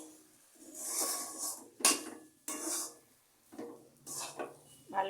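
Spoon scraping and clinking against a pan while stirring spiced cauliflower filling with coriander leaves and garam masala for paratha, in short bursts of close metallic scrapes and knocks with pauses between.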